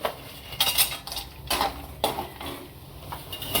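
Whole spices such as cardamom and dried ginger dry-roasting in a pan while being turned over, heard as repeated metallic scrapes and clinks of a utensil against the pan in an uneven rhythm, close and clear without talking.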